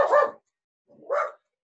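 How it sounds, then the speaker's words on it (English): A dog barks twice, close and fairly loud, with a short pause between the two sharp barks and silence around them. "That's my dog."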